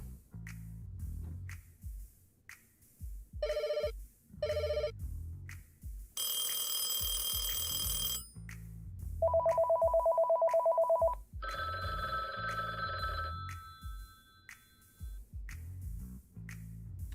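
A telephone sequence: two short bursts of dial-type tones, a harsh ringing burst, a steady beeping tone, then a higher electronic ring, all loud and close over a low background rumble with no talking.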